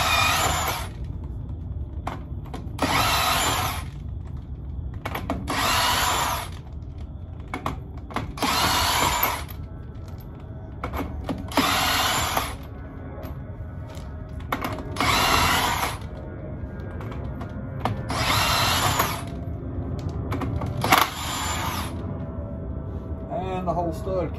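A power tool spins off the 15/16 axle flange nuts on a 2020 Ford F650, sounding in about eight evenly spaced loud whirring bursts with short pauses between them, close up in a shop, with some talk in between.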